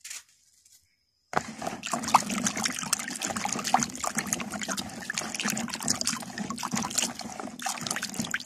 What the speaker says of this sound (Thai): เดี๋ยวเราจะล้าง ล้างเอายางเขาออกสักหน่อยนึง